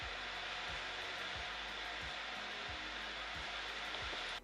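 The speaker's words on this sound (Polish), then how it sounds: "Jest prawie niesłyszalny poza trybem wydmuchiwania kurzu, który jest do włączenia z menu" Steady broadband whoosh of a JMGO N1S Nano projector's fan running in its dust-blowing cleaning mode, loud and continuous throughout with faint periodic low thumps underneath, no voices.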